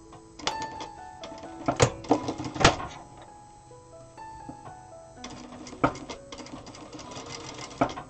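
A Zoje ZJ9703AR-D4J/02 industrial sewing machine stitching a small doll sleeper, running in short bursts of rapid mechanical whirring with clicks and thumps between runs, close and clear.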